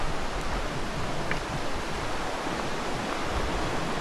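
A creek flows steadily along a wilderness trail in the South Mountains of North Carolina, a broad continuous wash of water close by with no talk.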